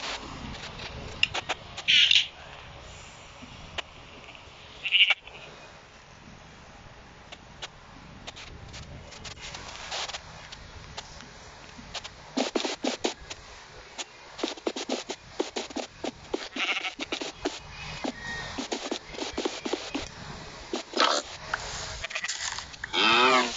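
Sheep in the video game Minecraft give a few short, faint bleats spaced apart, mixed with soft game clicks and scattered small noises.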